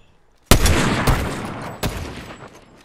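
Gunfire from a squad battle in the video game Fortnite: loud, sharp bursts with a heavy reverberant blast that decays, followed by a second crack, close and with no talk over it.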